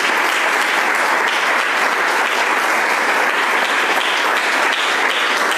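A church congregation applauds during a sermon, with loud, dense, steady clapping from many hands that fills the whole stretch.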